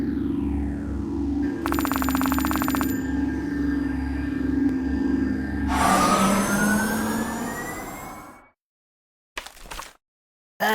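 A phone rings out and then an ambulance siren sweeps in the mobile game Kick The Buddy. Bright electronic ringing comes first, then a rising, wailing siren that cuts off abruptly, followed by a short blip.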